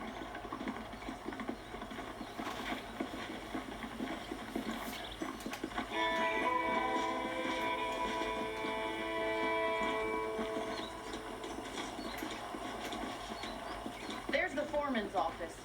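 Horses clip-clop steadily in Red Dead Redemption, a muffled hoof rhythm running throughout alongside a western music score and scattered background noise.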